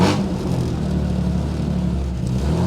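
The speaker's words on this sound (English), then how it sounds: "Fuel pumps on, ignition on, a few pumps of the throttle." A 1963 Jaguar E-type Lightweight engine rumbles steadily at close range, with the throttle pumped in a brief rise near the start before it settles into a continuous low drone.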